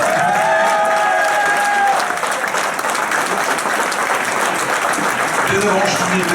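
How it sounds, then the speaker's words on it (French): A crowd gathered for municipal election results in Avranches breaks into steady, dense applause for the mayor's running mates, with a voice speaking over the start before the clapping carries on alone. "je peux vous les applaudir"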